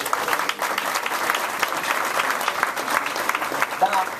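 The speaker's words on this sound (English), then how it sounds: "So why don't y'all give them a round of applause?" A crowd at an 8th grade graduation applauds the graduates, a steady, fairly loud round of clapping with some voices mixed in underneath.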